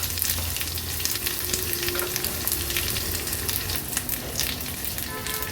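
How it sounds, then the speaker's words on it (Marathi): Green chillies with crushed ginger-garlic, curry leaves and asafoetida sautéing in hot oil in a kadhai, a dense, steady crackling sizzle close up with light stirring, no talking. "आता आपण हे सर्व इन्ग्रेडियंट व्यवस्थित तेलावर असे परतून घेऊया"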